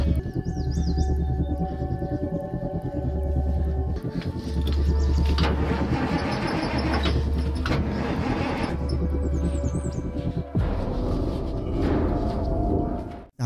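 A parked truck engine cranks repeatedly without catching, giving a throbbing, loud starter churn in several bursts with pauses between, set against film background sounds.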